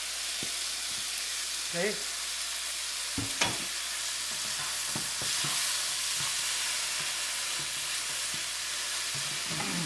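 A pan of tofu and eggs sizzles loudly and continuously as tomato ketchup goes in, with occasional spoon taps and stirring; a voice speaks briefly.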